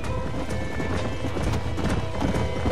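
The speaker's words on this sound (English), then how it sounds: "There's the horses!" Horses in the Red Dead Redemption video game gallop with rapid, dense hoofbeats close by, mixed with whinnies and outdoor game sounds, with a little talk underneath.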